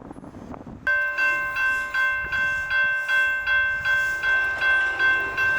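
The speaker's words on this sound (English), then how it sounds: "I'll bring you back when the train's coming" A train approaches a railroad crossing in Plant City, Florida, with a steady rhythmic crossing bell clanging loudly and evenly over low rumbling background noise.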